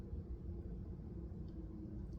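Low, steady rumble of a northbound passenger train heading to Indiana, a continuous dense drone with constant loudness and no voices, heard from inside.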